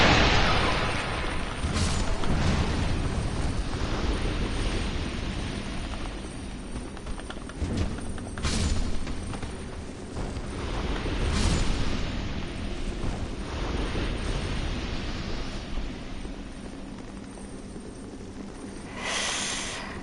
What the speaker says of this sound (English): Stupid exploding mummies.